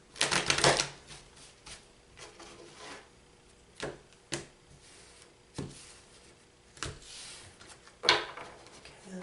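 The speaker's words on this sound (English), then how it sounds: "I'm going to shuffle again." Tarot cards being shuffled by hand, a few brisk riffling bursts and soft scattered taps at close range in a quiet room, with no speech.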